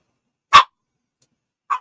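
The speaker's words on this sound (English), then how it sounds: "Look at my dog's giving everybody the riot act here." A dog lets out two sharp, loud barks about a second apart, each one short and close, with silence around them.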